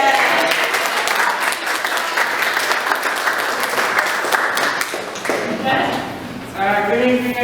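A crowd applauds steadily for several seconds, the dense clapping continuing as a voice begins speaking near the end.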